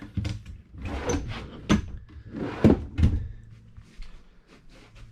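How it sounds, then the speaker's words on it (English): Storage drawers beneath the bed of a 2017 Open Range 3X427BHS RV slide open and shut several times, each stroke ending in a distinct wooden thunk, close up and with no speech. "Drawers underneath, pretty good size for storing stuff."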